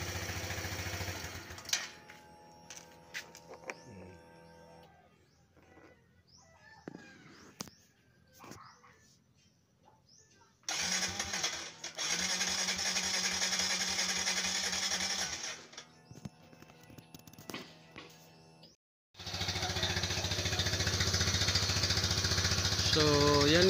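A motorcycle engine starts and runs after its spark plug has been cleaned, coming in rough bursts of revving separated by quieter gaps filled with clatter and a dog barking, while someone talks.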